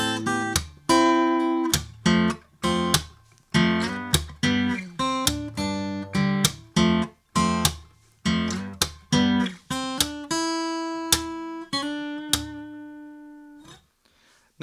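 Fingerstyle electric guitar plays the second-verse C section of a song, crisp plucked notes and short chord stabs in a steady rhythm, close and solo, ending on sustained ringing notes.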